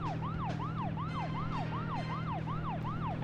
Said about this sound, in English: Maybe don't put the siren on just yet.